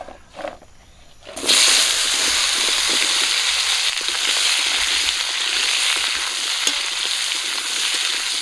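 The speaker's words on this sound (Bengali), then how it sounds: "মাছ ভাজা তেলে আমি আলু আর আনাজিগুলো ভেজে নেবো" Potatoes and vegetables drop into hot fish-frying oil and burst into a loud, steady sizzle that holds on without a break after a few quieter clinks.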